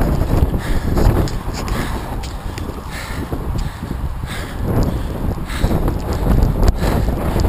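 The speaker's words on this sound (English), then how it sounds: "So windy, really windy." Strong, gusty wind buffets the microphone with a continuous loud roar and rumble, and no voices are heard.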